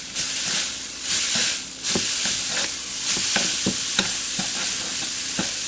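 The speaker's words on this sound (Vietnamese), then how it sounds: "xào cho cọng mì khô ráo trở lại" Seafood noodles stir-fry in an oiled pan with a loud steady sizzle, punctuated by repeated scraping and clanking strokes of a utensil against the pan; no voices.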